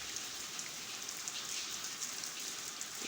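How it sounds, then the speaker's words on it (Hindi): Heavy rain pours into a small home courtyard enclosed by tall walls, a dense, steady hiss of drops hitting the ground that runs unbroken from start to finish with no voices. "ये देख बारिश फिर तेज़ हो गई है, बल्कि अब ज़्यादा तेज़ हो गई है बारिश।"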